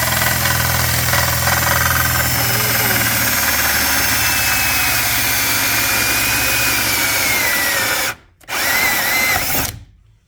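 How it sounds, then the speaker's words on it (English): A loud 2-inch hole saw grinds continuously through the metal bumper of a 2018 Chevrolet Silverado 1500 under its idling engine, pausing briefly near the end before a final burst of cutting. "Center of my 2-inch hole saw is in the bumper in my pilot hole"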